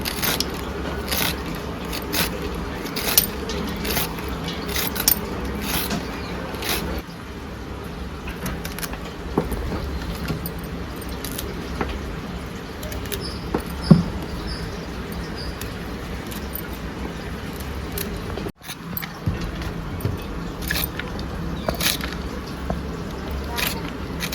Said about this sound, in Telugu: పీలర్తో కొంచెం ఇలాగా తీసేసేద్దాం